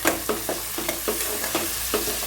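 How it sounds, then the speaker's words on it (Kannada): A spoon stirs soaked peas frying in hot oil for a spicy rice usali, rhythmic scraping strokes about every half second over a steady bright sizzle, with no voices. "ನಾನಿಲ್ಲಿ 1-2 ಹಿಡಿಯಷ್ಟು ನೆನೆಸಿರೋ ಬಟಾಣಿ ಹಾಕ್ಕೊಂಡಿದ್ದೀನಿ"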